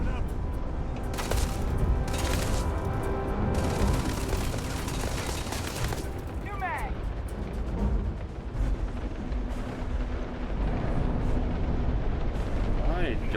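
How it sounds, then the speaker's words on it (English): Gunfire rattles and booms in a Starfield battle, bursts of shots and explosions coming in clusters with layered combat noise beneath a voice talking. "I don't even know who's shooting at us at this point."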